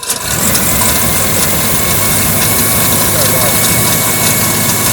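IH Farmall Cub tractor engine running at about three-quarter choke, a loud, close, steady chugging idle that starts at once and holds without a break.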